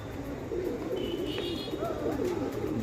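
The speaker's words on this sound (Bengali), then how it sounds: "দুটো পায়রা নামলো" Pigeons coo softly over steady background noise as a pair of birds lands on the ground, with a few brief chirps mixed in.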